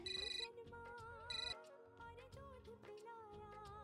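A phone ringtone plays loudly, a bright melodic electronic tune with repeating beeping bursts, with no one talking.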